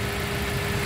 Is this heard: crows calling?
no